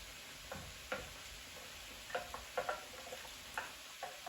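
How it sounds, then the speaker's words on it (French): A bouillon cube stirred and broken up in a pan for hachis parmentier: faint, sparse clicks and taps of a utensil against the pan, quiet and close, over a soft, steady background hiss. "Je vais un peu mélanger, le casser."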